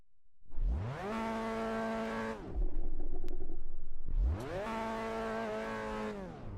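A car engine in Assetto Corsa Evo revs up twice, each time climbing to a steady high-pitched drone with a clear harmonic whine, separated by a short, rougher idle, heard alone and fairly close.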